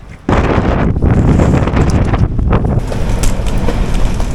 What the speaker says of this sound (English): The gusts have definitely started.